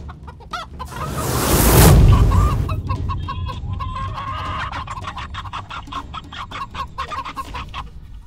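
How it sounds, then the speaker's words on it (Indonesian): Many chickens cluck busily near a grave, and a loud burst of crowing or squawking rises in the first seconds before a steady, dense clucking carries on to the end. "Kok jadi banyak suara ayam ya?"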